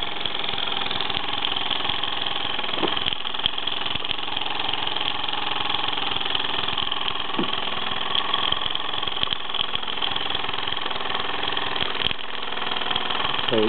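A Mamod SC2 model steam engine, about 70 years old, runs steadily with a continuous busy whirring chug close to the microphone, with a few faint clicks and knocks over the top.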